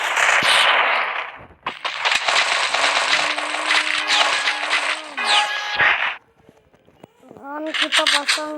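Rapid bursts of shotgun fire in an Indonesian video game, loud and dense, with clattering and other game effects under the shots and a short pause before a final burst.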